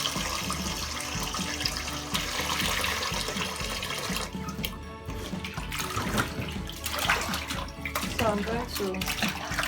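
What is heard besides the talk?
washing meat under running water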